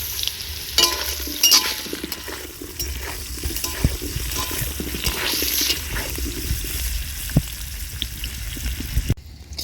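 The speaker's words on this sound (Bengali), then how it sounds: "তো আলুটা খুব ভালোভাবে ভেজে নিয়েছি, এইবার আলুটা তুলে নেব।" Potatoes fry with a little salt in a pan, giving a steady, loud, close sizzle with stirring and scraping throughout, then a brief break at the end.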